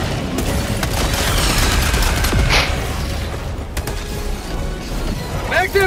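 Mortar strikes in the Helldivers game, loud dense booms and crashing explosions rolling continuously with rapid gunfire mixed in, close and chaotic.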